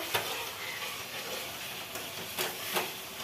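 Chicken and cauliflower fry in hot oil, giving a continuous soft hiss and sizzle with a few brief pops and clinks of stirring scattered through, fairly quiet and close, without talk.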